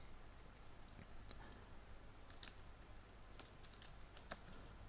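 Faint, scattered keystrokes on a computer keyboard while typing in MS Word, light irregular taps set against a steady low background noise.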